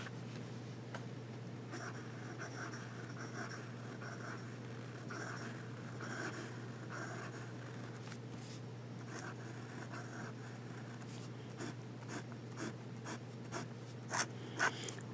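A fountain pen with a 14K gold flex nib scratches across paper in soft, continuous strokes, faint against a steady low hum, with a few sharper scritches near the end.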